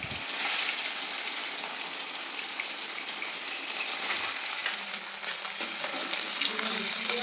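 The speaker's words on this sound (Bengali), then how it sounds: "এদিকে তেলটাও আমার গরম হয়ে গেছে আর এক এক করে সব মাছগুলো ভেজে নিলাম" Leta fish frying one by one in hot oil, giving a continuous, fairly loud sizzling hiss that holds steady throughout with small crackles near the end.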